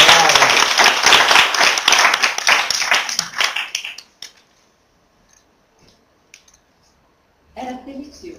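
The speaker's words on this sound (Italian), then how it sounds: "No, l'applauso noi lo facciamo solo a Noemi." Applause breaks out at an Italian book presentation, a dense burst of clapping for about four seconds that tapers into near silence before a voice resumes.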